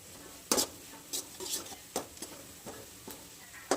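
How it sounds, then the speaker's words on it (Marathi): A spoon stirs coriander powder into a drumstick curry in a pan, making about eight light scraping clacks at an uneven pace over a faint background sizzle. "थोडीशी मी धना पावडर टाकणार आहे."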